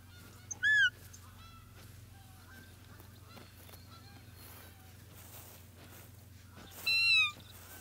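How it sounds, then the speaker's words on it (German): Geese in the hunting game The Hunter: Call of the Wild honk loudly in two short bursts, one near the start and another near the end, over a steady low hum with faint scattered calls between. "Die Gänse hier, das ist ja der Hammer, wie viele Gänse hier rumflattern."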